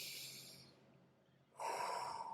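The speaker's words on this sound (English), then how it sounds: "In through my nose, out through my mouth" Slow, deep breathing at close range: an airy breath drawn in through the nose, a quieter pause, then a fuller, louder exhale pushed out through the mouth, with no talking.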